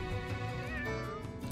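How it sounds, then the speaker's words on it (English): A cat's meow from the video game Fire Emblem: Three Houses, a single tonal call sounding fairly close over steady game background music. "Kitty!"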